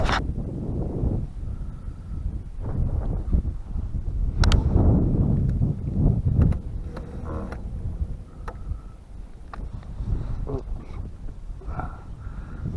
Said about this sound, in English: this wind is something